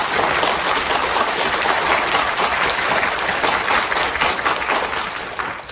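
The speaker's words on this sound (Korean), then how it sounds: "이 두 분에게 다시 한번 환영의 박수를" Loud, sustained welcoming applause from a crowd at a political rally, a thick steady roar of many hands clapping without a break, no speech over it.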